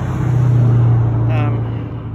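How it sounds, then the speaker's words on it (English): A car passes on a road beside an old chapel in Cambridge. The engine hum and tyre noise stay steady and fairly close, then fade slightly as the car moves away. "but sorry for the traffic noise"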